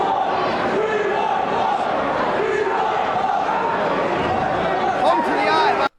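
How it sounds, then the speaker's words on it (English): An ECW wrestling arena crowd chanting together in a loud, rhythmic mass of voices, sustained and close, with general crowd roar underneath. "the crowd chants, "We want blood,""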